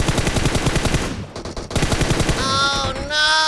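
Automatic gunfire in PUBG Mobile, fast evenly spaced shots in two loud bursts separated by a short pause, followed by ringing electronic tones.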